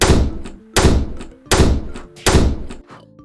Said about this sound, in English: somebody's slamming the door downstairs